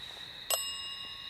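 A small bicycle-style bell rings once during a ghost hunt, a single bright ding that lingers with a faint ringing tail against a quiet room with a steady high electronic whine.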